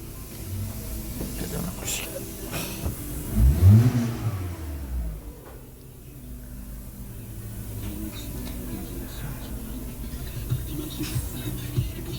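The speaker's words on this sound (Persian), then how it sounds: "ماشین با تک استارت روشن شد" A car engine cranks and catches on the first try after its computer was repaired, revving up with a rising roar before dropping back to a steady idle hum amid background noise.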